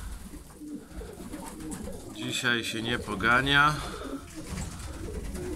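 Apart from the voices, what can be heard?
pigeons cooing in a pigeon loft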